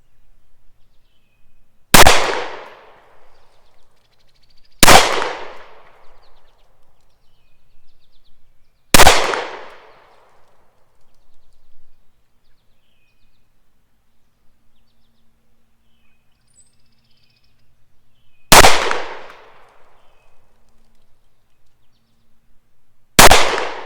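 Five loud, sharp gunshots from a Browning Hi Power Mark III pistol at an outdoor range, fired slowly at irregular intervals of several seconds, each crack trailing off in a brief decay with near silence between.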